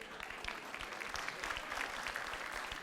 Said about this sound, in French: applaudissez ceux qui ont des vêtements made in China,